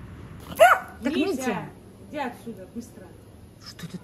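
A dog gives a few sharp barks and yips close by, mixed with a person talking, in a jungle setting.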